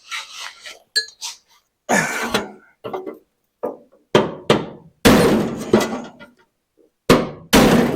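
Hammer blows on the sill of an MGA during repair work, a series of sharp, loud metallic strikes in irregular bursts, some single and some in quick pairs, with short pauses between.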